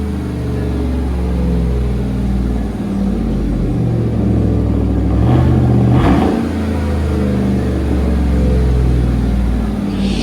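A lifted 2015 Chevrolet Suburban LTZ with a 5.3L V8 and dual exhaust running Dynomax Race Bullet mufflers revs loudly and up close. A steady rumbling idle swells into a sharper rev burst midway, with no talking.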